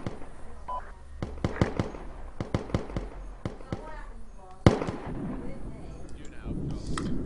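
Repeated sharp mortar blasts in the video game Arma 2, Takistan, come as scattered loud bangs, some close and heavy, others farther off, with players talking over the firefight.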